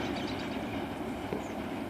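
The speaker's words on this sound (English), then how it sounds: "There we go, NS12R with a Herzog train in tow and a transformer thing up front." A Norfolk Southern train with a Herzog work train in tow rolls past close by. Its steady, dense rumble of wheels and rail noise goes on without a break and has no voices over it.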